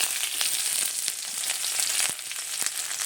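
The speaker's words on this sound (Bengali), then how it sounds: "কড়াইতে সর্ষের তেল দিয়ে দিয়েছি, তেলটা গরম হয়ে গেছে। দুটো শুকনো লঙ্কা দিয়ে দিলাম, পেঁয়াজ কুচি দিয়ে দিচ্ছি" Chopped onion and two dried chillies frying in hot mustard oil in a kadai, a steady close crackling sizzle with brief sharp pops throughout, no voices.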